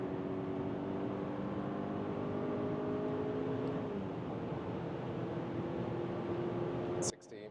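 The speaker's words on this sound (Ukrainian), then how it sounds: "на швидкості 130 давайте розженемо ще більше, подивимось, скільки потужності ще залишилось" A car's engine hums and rises steadily at speed inside the cabin, with constant road and wind noise, quietly and without talk.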